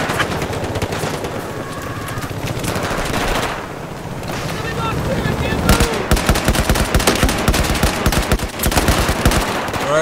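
Enemy machine gun fire rattles in Battlefield 4 on the Siege of Shanghai map, dense rapid bursts of gunshots, loud and close, broken by a brief lull before heavier sustained firing resumes.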